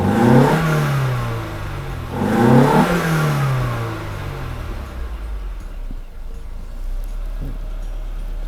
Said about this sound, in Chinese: 我们做个车内的提速看看